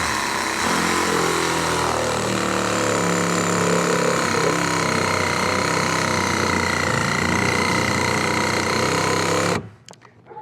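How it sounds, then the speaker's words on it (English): A power blade saws through a container, cutting it in half from the corner to build a lamb and goat shelter: a loud, steady, high-pitched whine that runs continuously for about nine seconds, then stops abruptly. "I'm going to go ahead and start cutting this thing in half"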